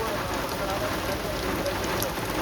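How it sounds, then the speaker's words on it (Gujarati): Heavy monsoon rain in Gothan village, Gujarat, pours steadily and densely, a constant loud hiss of drops hitting surfaces with no break. "અંધરાધાર વરસાદ પડે છે"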